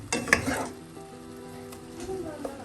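Prawns and long beans simmering down in a pan are stirred, with a few quick spatula scrapes and clinks at the start, then a steady soft sizzle and bubbling close by.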